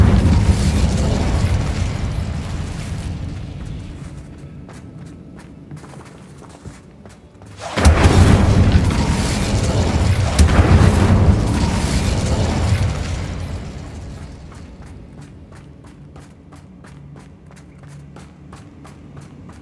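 Incendio fire spell in Hogwarts Legacy on Xbox Series X, a loud sudden whooshing blast that roars for several seconds before fading back into a rumbling game background.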